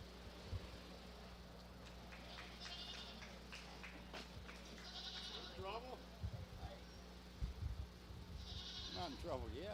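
Goats bleat at a county fair sheep and goat show. Several loud, wavering calls come from nearby animals. An announcer and other people talk over them, and an arena hum runs steadily underneath.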